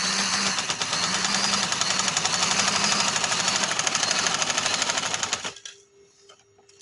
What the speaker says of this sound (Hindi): इस तरह सिलाई लगा लेनी है।